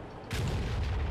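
A tank cannon fires in a tank combat video game: a sudden heavy boom hits after a short quiet moment, then rolls on as a loud, sustained low rumble.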